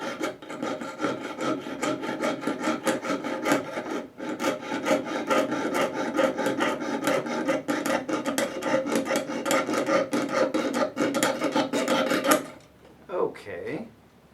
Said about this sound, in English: all I have to do is just saw through them